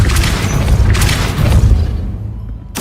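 The Depulso force-push spell from the Hogwarts Legacy video game goes off with a loud, deep boom, followed by a rumbling, crashing burst that fades out before a sharp new impact at the end.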